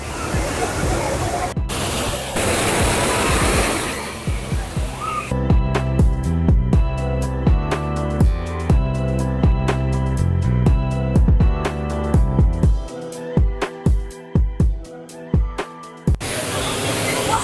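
Loud, constant rush of falling water at Thalayani Falls at the start and end, with music playing in between.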